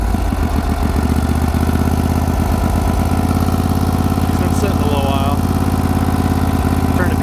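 A pulling tractor engine runs steadily with the choke on while still cold, a loud, close, continuous rumbling idle with a throbbing low beat throughout.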